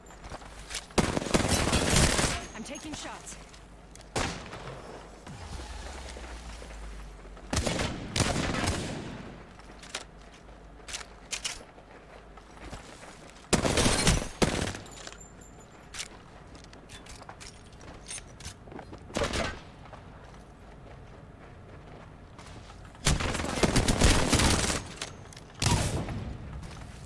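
Video game gunfire, with dense bursts of rapid shots recurring every few seconds among scattered single cracks and softer mechanical clicks, loud and close, with no talking over the firing.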